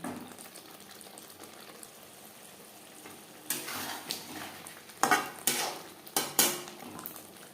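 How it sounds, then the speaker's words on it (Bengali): Potatoes added to a pan for a Bengali aar fish curry are stirred over a high-to-medium gas flame, with faint sizzling broken by several sharp, close scrapes and clinks of the utensil against the pan. "এখানে আমি 3টে আলু অ্যাড করলাম। গ্যাসের ফ্লেমটাকে হাই টু মিডিয়ামে রেখে আরও 3-4 মিনিট নাড়াচাড়া করে নেব।"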